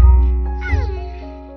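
A small, cute cat gives a single drawn-out meow, close and clear, over a low steady hum, with no talk.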